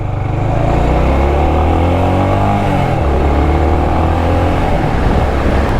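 A 1992 Honda GB500 TT single-cylinder cafe racer motorcycle under way on Irish roads, its engine droning loud and steady with a shifting pitch that rises and falls as it rides, no talk over it.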